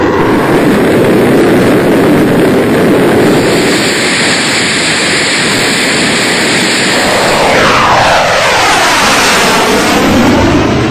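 A fighter jet on the deck of the Indian aircraft carrier INS Vikrant gives off a continuous, very loud roaring rush that sweeps in pitch as it passes near the end.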